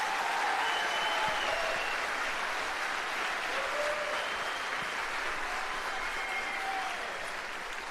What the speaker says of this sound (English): Let's give these students another huge round of applause.